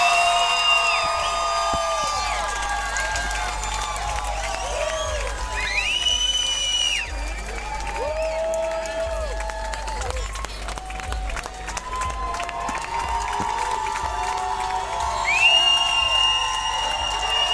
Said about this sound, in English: A lot of Josh Reed supporters in the crowd. You can hear them roaring behind us.